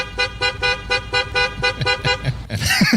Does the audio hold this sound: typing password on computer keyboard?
no